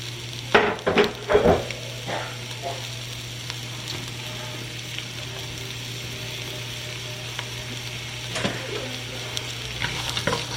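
Diced onion, carrots and celery fry in a hot pan with a steady low sizzle, while a few sharp scraping stirs cluster near the start and again near the end.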